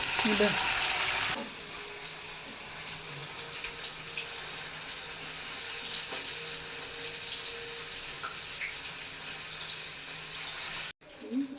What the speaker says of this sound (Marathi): त्याच्यात आता चिकनचे एक एक पीस सोडून चांगले तळून घ्यायचे